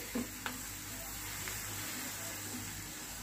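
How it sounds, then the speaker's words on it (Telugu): Crushed garlic sizzles in hot oil for a mango pickle, giving a faint, steady frying hiss with a couple of small clicks early on and no talking. "ఈ ఆయిల్ వేడికి వెల్లుల్లి అనేది ఫ్రై అయిపోతే సరిపోతుంది"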